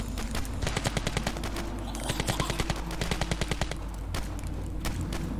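Fully automatic weapon fire in the video game Ravenfield, rapid bursts of evenly spaced shots repeating across the clip over a steady low rumble of battle noise.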